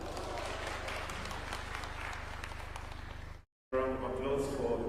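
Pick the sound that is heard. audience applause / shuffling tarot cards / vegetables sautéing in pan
audience applause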